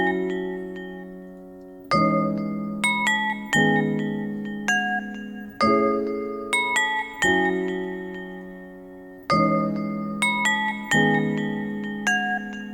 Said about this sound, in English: take this top melody and have that play with our bell